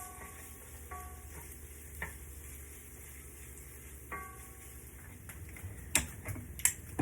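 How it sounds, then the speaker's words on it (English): Minced garlic and onions sizzling in a frying pan, a steady close hiss with occasional stirring clicks and taps of a utensil against the pan. "Now I'm gonna throw in a few cloves of garlic minced up and let it cook for about another minute."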